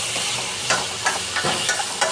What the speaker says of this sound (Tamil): தக்காளியை சேர்த்து ஒரு 2 நிமிஷம் நல்லா வதக்கணும்